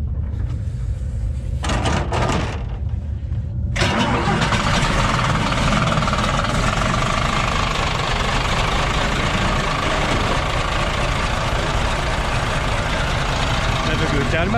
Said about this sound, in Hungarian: Pöccintéssel indul a busz.